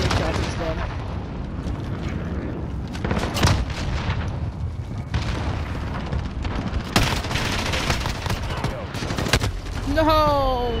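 An MG-34 machine gun in the Modern Warfare game fires in repeated bursts, mixed with explosions and other gunfire, loud and dense throughout. A voice speaks briefly near the end.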